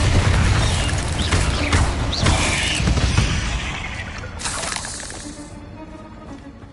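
A Bombarda blasting spell explodes in Hogwarts Legacy, a loud booming burst with crumbling debris and spray that rumbles on and slowly fades over several seconds.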